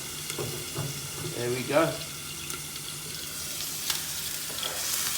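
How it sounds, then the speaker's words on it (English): Onions fry in hot oil for chilli chicken, giving a steady broad sizzle throughout, with a voice speaking briefly over the hiss and occasional light clicks of a pan or utensil. "there it goes, sizzling"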